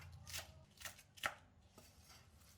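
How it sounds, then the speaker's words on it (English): Lettuce is chopped with a knife on a board in four or five separate crisp, close chops spaced irregularly, the last one sharpest, with quiet pauses between them. "Chop the lettuce into rough slices of preferred width."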